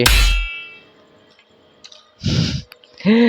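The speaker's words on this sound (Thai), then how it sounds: "ขออภัยด้วยเสียงแอร์เมื่อกี้ทำหูฟังตก" Dropped headphones clatter with a brief hard clang, then a few small scattered taps and knocks follow before louder noise resumes.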